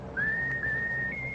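A bird in a radio comedy skit whistles a short, clear tune, one smooth pitched line that steps up to a higher note near the end, heard alone.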